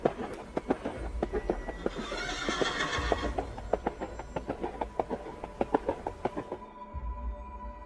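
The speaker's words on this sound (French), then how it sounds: "et lorsque les sabots se rapprochèrent de plus en plus" Horse hooves clop in a steady, approaching rhythm as a story sound effect, drawing nearer over several seconds with a whinny rising in the middle, then cutting off abruptly near the end.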